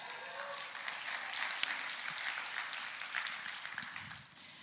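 Steady, dense clapping from a church congregation fills a reverberant room, sustained and even throughout with a slight swell midway.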